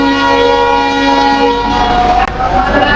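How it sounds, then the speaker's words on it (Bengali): The Mallika Commuter local train, an old engine running Rajshahi to Chapai Nawabganj, sounds a loud, sustained departure whistle up close at the station, a steady tone that cuts off near the end. "বাঁশি দিয়ে দিয়েছে, এখনই ট্রেনটি ছেড়ে দিবে"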